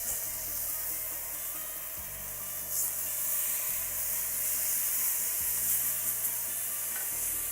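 Flap steak sizzling steadily on a griddle over a 1962 Primus 2063 stove after flipping, a close, even frying hiss with a low burner roar underneath and no talk.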